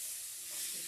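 Cream cheese melts in a pot as it is stirred for artichoke dip, a brief, steady soft sizzle and hiss with faint scraping, close and quiet, with no talk.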